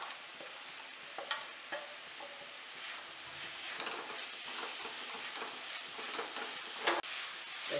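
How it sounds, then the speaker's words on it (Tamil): Roasted cashews and raisins stirred into a pan, a faint steady sizzle and hiss with soft scraping strokes scattered throughout, quiet and without voices. "நம்ம வறுத்து வச்சிருக்கிற முந்திரி பருப்பும் திராட்சையும் போட்டுடலாம்."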